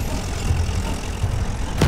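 A tank's engine rumbles steadily and close in Battlefield 1, a low idling drone alone with a brief louder swell at the very end.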